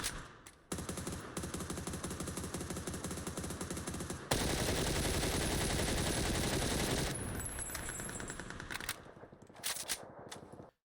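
Rapid automatic fire from a QBZ assault rifle in the battle royale game PUBG: a long, loud, continuous burst, a brief break, then another sustained stream of shots trailing off into a few scattered ones.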